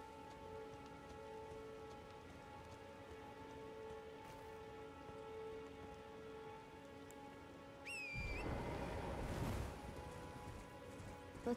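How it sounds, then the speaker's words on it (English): Rain falling in the video game Elden Ring, a steady soft patter over faint game ambience with a brief high whistle, swelling into a louder, denser rush of downpour near the end. "Oh, it's raining."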